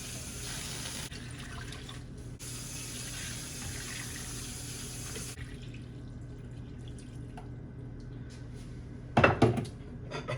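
Tap water runs steadily into a cooking pot for homemade vegetable broth, a continuous close hiss and splash with a brief louder splashing burst near the end.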